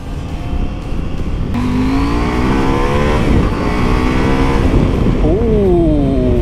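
A 2021 KTM Duke 890 motorcycle engine runs loud and close while riding, its pitch climbing and dropping through gear changes over constant wind roar.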